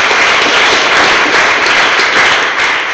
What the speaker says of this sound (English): I just want to big applause for you guys.